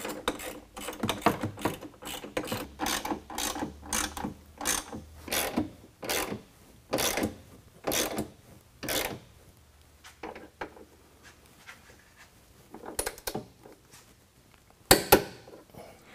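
A ratcheting wrench tightening nerf bar bracket bolts on a 2020 Ram 2500 truck: a series of rapid clicking ratchet strokes in bursts, fairly close and clear, then sparser clicks after a pause, no talking.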